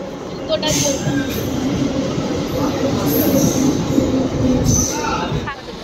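An express train rushes past nearby with a dense, continuous rumble and rattling wheels, and brief squeals and horn-like tones ring out above it.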